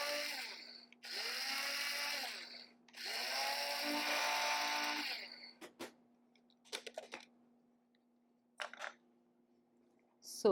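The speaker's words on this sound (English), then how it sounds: "Just make sure you grind it really well" An electric spice grinder whirs loudly while grinding cardamom for garam masala, running in two long bursts with a brief pause between them, followed by lid clatter and rattling handling sounds.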